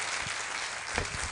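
Audience applause at a live Success Africa Summit event, a short burst of steady crowd clapping filling the space, with a brief louder swell near the end.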